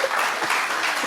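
A live audience at a talk claps together in a loud, dense burst of applause lasting about a second, with no voices over it.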